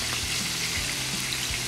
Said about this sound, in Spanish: Todo eso lo vamos a sofreír un poquito